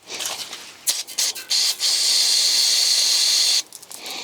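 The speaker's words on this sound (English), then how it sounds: "Spray this down with some brake clean first." A sharp brake cleaner aerosol spray hisses steadily for about two seconds, close and loud, after a few short bursts and clicks, on brake line fittings of a Duramax.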